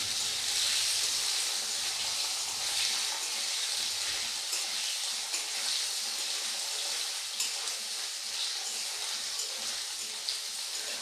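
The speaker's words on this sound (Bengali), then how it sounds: "পনিরটা ছেড়ে দেবো হালকা করে ভেজে নেব হালকা একদম" Paneer frying lightly in a pan of oil, a continuous soft sizzle with occasional small pops and a gentle rhythmic stir underneath, close and alone.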